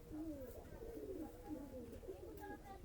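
Pigeons at a Bangladeshi pigeon farm coo in soft, low, throaty rolls, several calls overlapping in a continuous murmur, fairly close and gentle against faint background noise.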